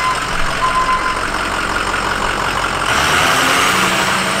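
A Ford F450 truck engine runs steadily close by, a loud continuous diesel-like drone that swells slightly in the second half, with no voices present.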